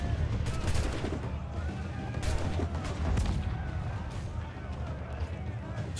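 Ship cannons firing in Assassin's Creed Black Flag during a naval fight against a man-of-war, a rapid volley of loud booms and crackling shots over low rumble, with a voice talking faintly underneath.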